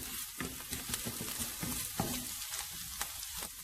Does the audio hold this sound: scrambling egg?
yes